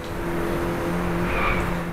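Racing car engine in the Driveclub video game, holding a steady loud drone with tonal harmonics throughout, rising slightly toward the end, no voices.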